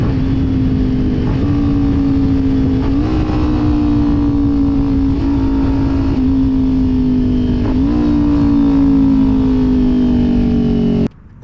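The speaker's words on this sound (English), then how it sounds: "Now here's going to be a clip of me rev matching all the way down." A Kawasaki Ninja 400 motorcycle engine drones loud and steady as the rider shifts down, each downshift marked by a brief blip of revs before the pitch settles lower again, continuous for about eleven seconds and then cutting off abruptly.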